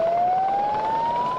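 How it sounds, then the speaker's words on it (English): A single steady siren tone rises slowly in pitch, loud and continuous over a low background hum. "then you hear the siren, make sure you get out of the water"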